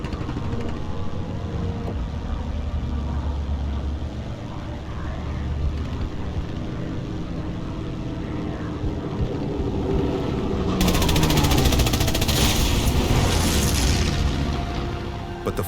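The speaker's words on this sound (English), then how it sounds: "he pushes his Mustang's engine to the maximum, the roar of the aircraft's power plant drowning out the chaos around him" A Mustang fighter plane's engine roars in a War Thunder air-sim dogfight: a loud, continuous droning roar that swells and grows harsher near the end, with no voices.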